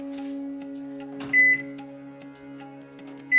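A microwave oven on defrost hums with a steady low drone, with occasional faint clicks and two short electronic beeps.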